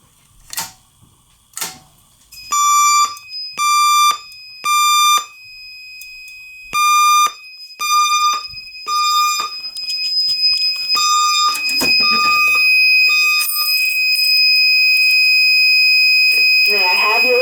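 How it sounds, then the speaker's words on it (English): A building fire alarm system sounds loud, repeated electronic tone bursts in a steady on-off pattern close by, then shifts to a continuous high tone layered with more signal noise. "The signal you have just heard indicates a report of a fire in this building."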